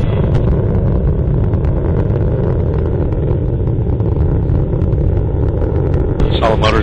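Delta II rocket solid motors roar during the Phoenix spacecraft launch, passing Mach 1 and max Q, as a loud, steady, dense rumble that fills the whole clip without easing, with a brief hiss near the end.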